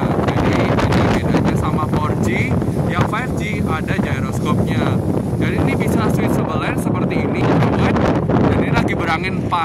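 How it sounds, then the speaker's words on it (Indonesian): Strong wind on an overcast day buffets the microphone continuously, a loud, rumbling roar with rustling gusts throughout and no speech. "ini memang lagi berangin banget karena lagi mendung"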